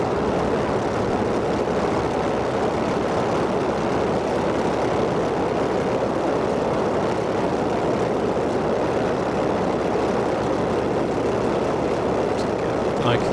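An F4F-4 Wildcat in Microsoft Flight Simulator cruising between Duxford and Old Buckenham, its propeller engine a steady, loud droning roar that holds unbroken throughout.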